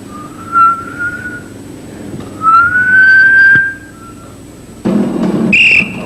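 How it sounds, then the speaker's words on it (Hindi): Water taps whistle in sustained, rising tones, two long squealing notes followed by a higher shrill burst over a low rumbling background, fairly loud and with no talking. "ये सीटियां मैं नहीं बजा रहा हूँ भाई साहब, वो बजा रहे हैं नल के भाई साहब।"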